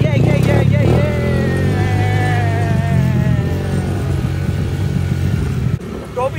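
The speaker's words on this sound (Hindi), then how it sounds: "अब्बू के साथ क्वाइट बाइक चल रही है, बूम बूम कर रहे हो।" A quad bike ridden at a farm house gives a steady engine drone with a wavering, slightly rising pitch, close and loud, under excited talk from people riding along.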